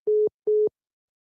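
Two identical short electronic tone bursts of a disconnected phone call, evenly spaced, clean and steady, then silence; no voices.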